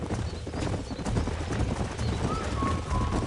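Horses gallop in the video game Red Dead Redemption, with dense, continuous hoofbeat clatter from a group of wild horses close by. It rumbles throughout at a steady moderate level.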